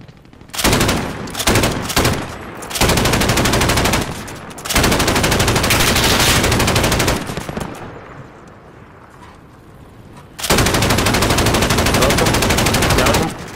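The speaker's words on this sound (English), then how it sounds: "I'm shooting at him." Loud video game gunfire in Call of Duty: Modern Warfare, with rapid automatic bursts in several long strings separated by short quieter gaps, including Mp7 and Kar98 fire.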